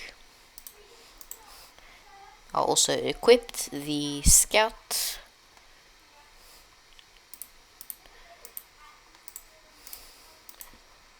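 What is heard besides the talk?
mouse clicking while playing Tower Defense Simulator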